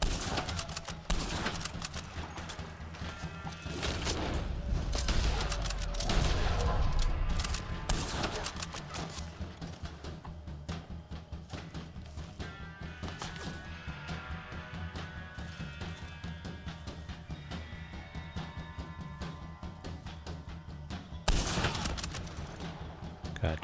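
Enemy gunfire crackles in Red Dead Online as repeated shots. The shooting is loudest early, settles into steady background firing and rises in a brief burst near the end, with no clear voices.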